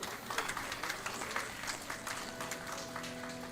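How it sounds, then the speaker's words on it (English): Guests at a Vedic Hindu wedding ceremony clap with scattered, uneven hands. The sound is faint and somewhat distant, with background murmur and a held tone coming in toward the end. "Audience, give them another big round of applause."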